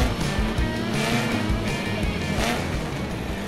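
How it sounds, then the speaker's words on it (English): Cartoon race car engines roar together at a starting line as racers warm up, a steady loud revving drone with rising whine tones, no talking over it. "Can you hear the roar of the engines?"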